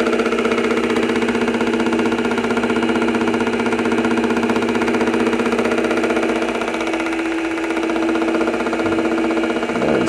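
A mini lathe cutting metal while making change gears, a loud, steady motor hum with a rhythmic pulsing rattle at close range, running continuously with no talk over it.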